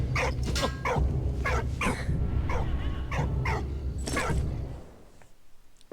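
A dog in the World War I game Valiant Hearts: The Great War barks in a string of sharp, repeated yaps at steady intervals, close and loud over a low game backdrop, then stops near the end.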